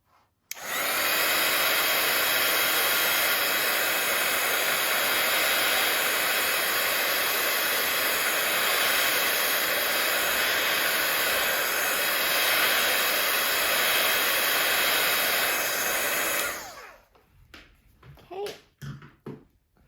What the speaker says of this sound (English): You can either let it air dry or you can use a heat tool to dry it